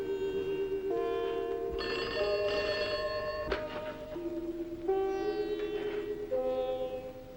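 A telephone bell rings insistently in several tonal bursts, close and fairly loud, with the pitch shifting between rings and no talking over it.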